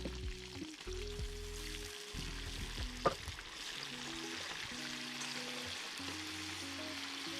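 Meat and onion frying in a cauldron over a fire for shashlik with pomegranate juice, a faint steady sizzle beneath low droning hum and one brief sharp clink.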